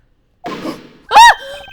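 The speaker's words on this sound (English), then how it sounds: "That's a gunshot!" A gunshot in the video game Ace Attorney Investigations, one sharp loud burst that rings out briefly after a softer rustling sound, heard alone with no talk.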